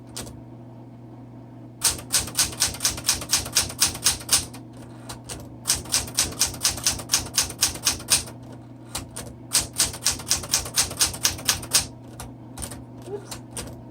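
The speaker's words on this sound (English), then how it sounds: "these are great manual typewriters" A red 1960s Smith Corona Classic 12 manual typewriter clacks through quick bursts of keystrokes, crisp and close, with short pauses between runs over a low steady hum.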